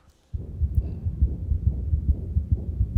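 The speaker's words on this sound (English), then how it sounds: "Is that her heart rate racing" Heartbeat sound effect in a Marvel TV series, a steady low thumping pulse that starts abruptly after a brief silence and keeps a fast, racing rhythm, loud and close with a droning low rumble underneath.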